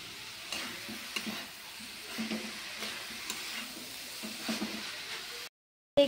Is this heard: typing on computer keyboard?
no